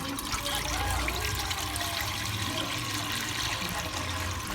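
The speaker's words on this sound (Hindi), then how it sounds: "कढ़ाई में शामिल करेंगे हम जितना पानी हमें चाहिए उतना पानी शामिल करेंगे" Water being poured into a wok sitting on a lit stove, a continuous rushing, splashing pour that holds steady for a few seconds with no voices over it.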